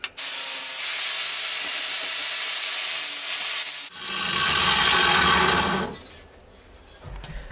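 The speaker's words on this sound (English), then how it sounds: "now you got to grind off the paint so that the metal will stick when I weld it" Grinder stripping paint off a metal panel on an MGB GT, a loud continuous abrasive hiss that shifts pitch and texture midway, then eases off near the end with no talk over it.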